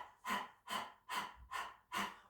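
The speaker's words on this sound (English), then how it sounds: "Then we're going to come into full breath of fire. So we're going to start off with the tongue out, so as if you're panting." Yoga breath of fire, done as panting with the tongue out: five quick, evenly spaced breathy huffs, close and moderately loud, with nothing else heard.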